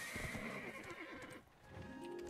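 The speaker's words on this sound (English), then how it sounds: "riding my horse inside the church there." Horse in the Black Desert Online video game neighing loudly and clip-clopping its hooves as it is ridden indoors through a church, with whinnying and steady hoof steps layered over game ambience.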